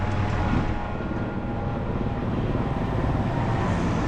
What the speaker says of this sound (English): there's a lot of noise because of traffic. If you look up, there's a helicopter.